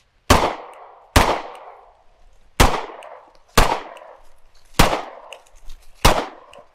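Six sharp handgun shots fired at a shooting range while the shooter moves, spaced roughly a second apart, each a loud crack with a short ringing decay, no talk.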